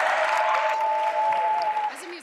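Audience clapping for a musician after a live acoustic set at the UN Environment Assembly in Nairobi, dense and steady before fading at the end, with a sustained tone and some speech underneath.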